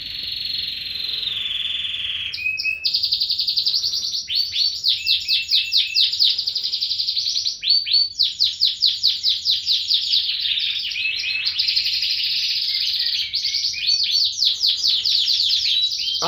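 A Persian canary sings loudly and continuously at close range, with long, rapid rolling trills and sharp chirping phrases that change pace throughout, no voices heard.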